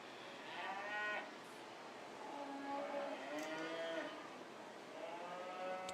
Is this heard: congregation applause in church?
no